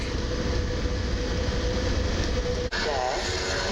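Intercity train hauled by an EP08 electric locomotive pulling into a station, a continuous loud rumble and rolling rail noise throughout, with a brief dip near the end.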